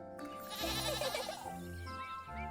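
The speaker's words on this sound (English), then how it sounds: "Baby goat! Fluffy companion!" A baby goat companion bleats in a video game, a wavering, quavering cry repeated over a soft music bed, clear and close with no talk over it.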